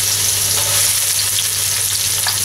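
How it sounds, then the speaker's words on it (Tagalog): Garlic and onion sautéing in hot oil in a wok, a steady, loud, close sizzle that runs throughout with faint stirring underneath, no voices. "So, dito sa ating kuwalet, nagpainit lang ako ng oil. Magigisa tayo ng garlic"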